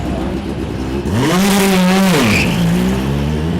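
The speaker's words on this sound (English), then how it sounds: "The combined field of LMP3 and LMP2 cars out for 15 minutes of action." LMP2 and LMP3 prototype race cars on a circuit: a loud, close engine note climbs, holds high as a car passes, then drops away into a steady drone.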